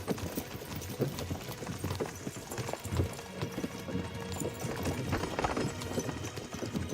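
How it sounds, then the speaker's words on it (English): Hooves clip-clop steadily from horses in the video game Kingdom Come: Deliverance II, close and regular, with a faint whinny-like undertone and soft tack noise mixed in. "What's wrong with the other horse?"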